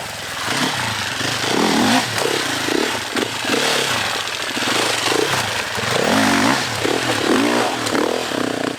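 A 2024 Sherco 500 SEF dual sport motorcycle being ridden, its engine loud and close, rising and falling through repeated throttle changes over a constant rough rumble and wind roar, with no talking.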